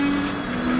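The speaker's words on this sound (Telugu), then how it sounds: "పక్క ప్లాట్ఫామ్లో ఇప్పుడే తిరువనంతపురం న్యూ ఢిల్లీ వెళ్తుంది ట్రైన్." A Thiruvananthapuram–New Delhi train braking on the adjacent platform gives a loud, steady metallic rumble with a sustained squealing tone running through the whole moment, and no voices are heard.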